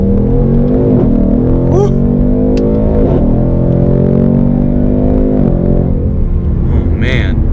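A 2018 Ford Mustang GT accelerates hard in first gear, its engine roaring loudly and climbing in pitch from inside the cabin, with a short exclamation from the driver.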